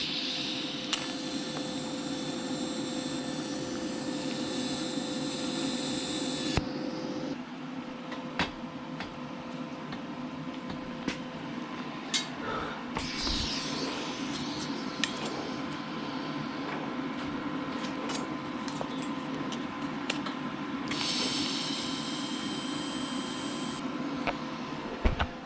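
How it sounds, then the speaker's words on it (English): Welding the rear half of a vehicle frame, a steady close crackling hiss that keeps going in long runs, with faint clicks and shop noise between stretches and no talk. "Alright, let's weld this"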